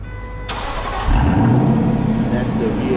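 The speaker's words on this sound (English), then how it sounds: "Bernard is gonna start the car first." A Lexus LC500 convertible's V8 engine cranks briefly and then catches, settling into a loud, steady idle close by, with a short chirp near the end.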